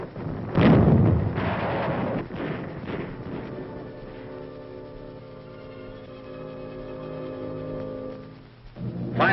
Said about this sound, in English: A little of the heat treatment and a few pounds of steel from fragmentation grenades does the trick.